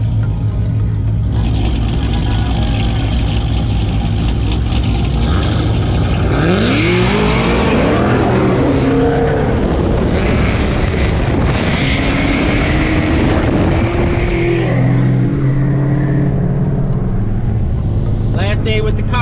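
A loud, close engine roar that rises and falls through revs, like a straight-piped exhaust, continuing throughout the clip with voices mixed in.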